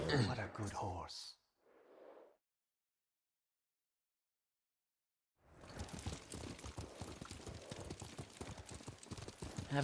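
Hooves of a horse clip-clop steadily at a gallop in the video game Ghost of Tsushima, loud and close, after a brief burst of sound and a few seconds of silence.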